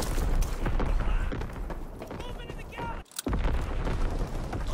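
Artillery fire in a World War II video game, with heavy booming blasts and crackling impacts over a busy battle din, a brief sharp drop near the middle, and a voice speaking faintly at moments.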